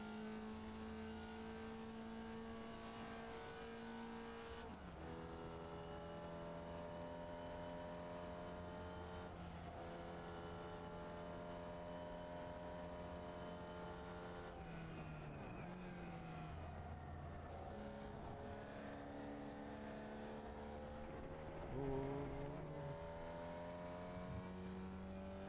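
A race car engine in the iRacing simulator drones continuously, with its pitch stepping up through the gears and dropping sharply at each shift or lift, and brief tire squeal as the car corners.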